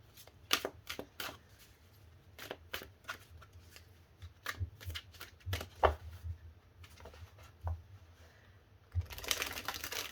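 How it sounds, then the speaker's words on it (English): Tarot cards are shuffled in quick riffling bursts separated by brief pauses, close and crisp, ending with a longer rustling shuffle. "Just going to do a few shuffles."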